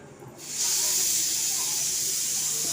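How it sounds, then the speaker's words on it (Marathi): A pressure cooker lets out steady steam, a loud continuous hiss that starts after half a second and carries on without a break to the end. "कुकर लावला आहे ती कुकर वाचतोय"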